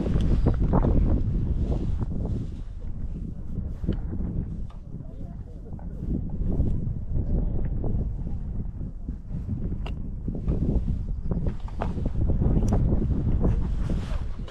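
Strong wind buffets the microphone with a steady low roar, gusting throughout, while people talk faintly underneath on a trout fishing outing.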